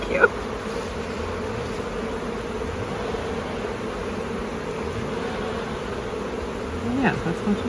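Honeybees at an open hive during a honey-season inspection, a dense continuous buzzing drone at close range with individual bees passing by, steady and fairly loud.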